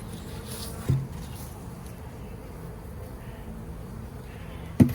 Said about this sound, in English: get these bees out of here